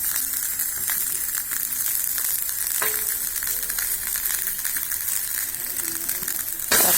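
Garlic sizzles steadily in a hot pan for chutney, a continuous bright frying hiss with a few faint clinks and a brief bump near the end.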